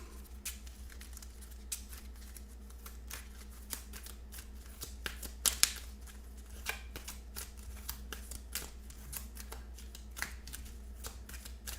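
A deck of cards shuffled during a tabletop game of Mystic Vale, soft riffling and flicking in a quiet room, close and continuous with scattered crisp snaps.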